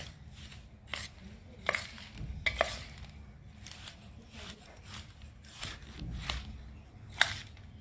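Methi laddu mixture is stirred with jaggery syrup and ghee in a pot, giving irregular scraping and clacking strokes of a spoon against the vessel, close by, with faint background sound.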